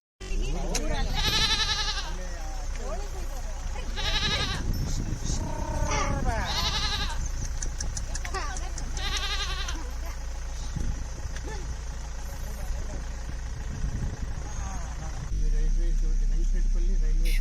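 A flock of sheep bleats on open village hillside, with repeated loud, wavering calls that overlap in bursts over a constant low engine-like hum.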